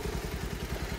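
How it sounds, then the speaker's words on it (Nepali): A motorbike on a nature trail gives a brief, steady, rumbling engine drone with a pulsing low throb, fairly close and with no talking. "बाइक पनि गयो यार"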